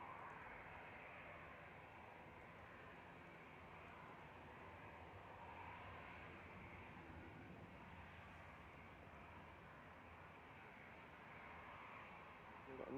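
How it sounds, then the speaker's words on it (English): Steady broadband roar of an EasyJet airliner starting its engines at Manchester Airport, heard at a distance, a continuous even drone with no voices. "Sounds like this EasyJet started its engines up."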